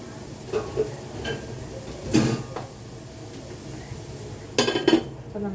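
A metal lid is set over a cooking pot, producing a few close clanks and scrapes spaced apart over quiet kitchen background.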